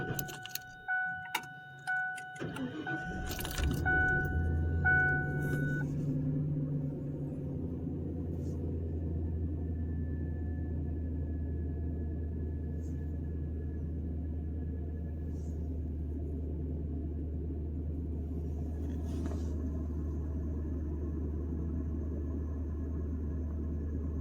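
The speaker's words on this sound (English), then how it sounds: "let's start the vehicle." A car engine cranks amid jangling keys, catches, and settles into a steady low idle that drones on alone, with a brief faint click later.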